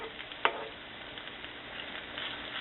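Potato cakes fry in canola oil in a pan with a soft, even sizzle close by, broken early by one sharp pop or spatter.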